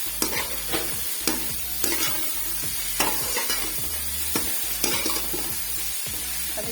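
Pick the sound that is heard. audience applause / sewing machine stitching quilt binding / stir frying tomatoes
stir frying tomatoes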